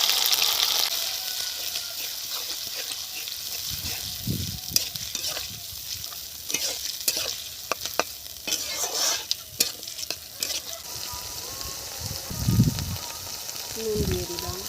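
Onion, ginger, garlic, cumin, coriander and chili pastes frying in oil for a country-chicken egg curry, with irregular scraping stirs, bubbling and spatters that rise and fall in a soft close sizzle.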